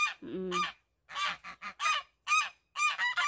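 Farm geese honking loudly and close up, a quick series of harsh calls one after another.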